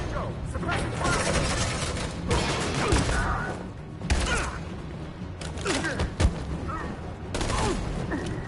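Rapid bursts of gunfire crackle through a combat scene in the video game Detroit: Become Human, volleys repeating every second or two with sharp louder shots, while shouting voices carry over the shooting.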